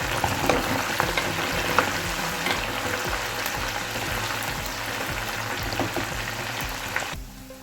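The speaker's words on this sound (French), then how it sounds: "L'huile est chaude. Je vais faire frire mes morceaux de viande." Pieces of meat fry in hot oil with a dense, continuous sizzle and crackle, close and steady throughout, cutting off abruptly near the end.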